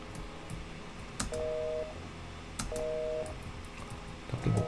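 Telephone dialing tones sound in the video game Duke Nukem 3D as two short runs of steady dual-pitch beeps, with soft game clicks and thuds around them and a louder rustle at the end, with no talking.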